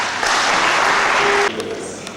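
Audience clapping at a secondary-school competition results ceremony, a dense burst of applause that stops abruptly partway through, leaving a quieter room with a brief tone and faint murmurs.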